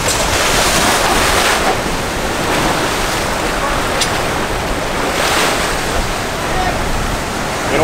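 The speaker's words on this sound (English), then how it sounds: "Big waves." Big ocean waves break and surge at a pier in a loud, continuous roaring wash, with wind buffeting the microphone and swells rising and falling.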